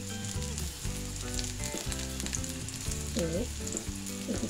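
Shrimp and masoor lentil fritters fry in hot oil, a continuous close bubbling sizzle that stays even for the few seconds heard, with no one speaking.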